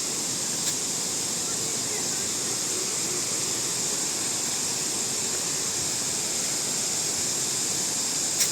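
Mae Ya waterfall roars as a steady, dense rush of falling water, loud and unbroken from close by, with no let-up across the whole stretch.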